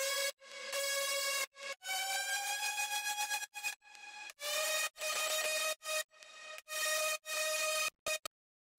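Second, main layer of a synth lead in a future trap beat: bright, buzzy sustained notes rich in harmonics, played as a choppy melodic phrase with short gaps between notes, loud and alone.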